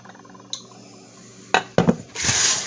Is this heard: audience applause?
no